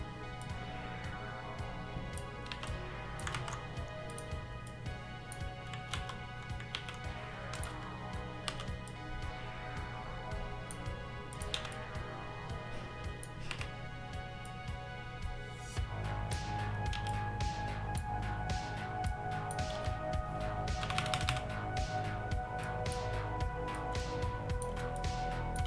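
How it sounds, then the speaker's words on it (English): Rapid, loud clicking of a computer keyboard being typed on continuously, the dense keystrokes close and steady over a constant background hum that grows slightly louder partway through. "my keyboard's just loud."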